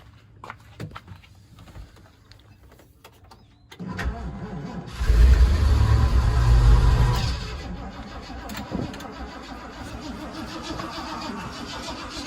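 A 1979 Ford Bronco, choke held open and primed with starter fluid after 15 years sitting, cranks briefly, then its engine catches with a loud rumbling burst that settles into a rougher, quieter run.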